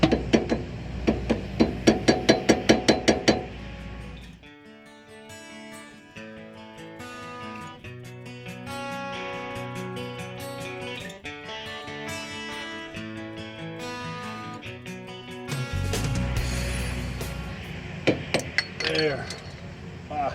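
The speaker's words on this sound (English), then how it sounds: "We need flathead and the hammer here. And we're going to get off this dust cap." Rapid metallic hammer taps on a flathead tool knocking off a wheel dust cap on a 1996 Jayco Eagle pop-up camper strike in quick bursts at the start and end, with music playing in between.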